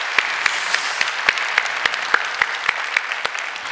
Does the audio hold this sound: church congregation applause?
yes